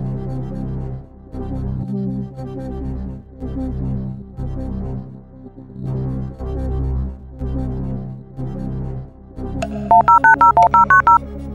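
Telephone dialing for the phone-a-friend lifeline in the Who Wants To Be A Millionaire pub quiz video game (2006): a string of clear, evenly spaced DTMF keypad tones near the end, heard over looping game music.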